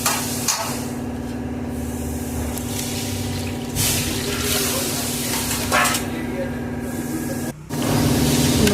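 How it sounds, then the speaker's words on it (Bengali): Water poured into a sizzling pan of fried spice paste for a Bengali taro, potato and fish curry gives a steady, close hiss and bubbling that runs the whole time, with one brief dip near the end. "মশলাটা কষানো হলে মশলাটাতে আমি জল দিয়ে দেবো মাপ মতো"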